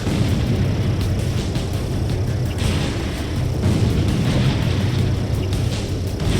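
Explosion of a destroyed target in the Ace Combat 7 flight combat game: a dense, sustained rumbling roar with a thick low end, steady and loud across the whole stretch, with no clear separate blasts.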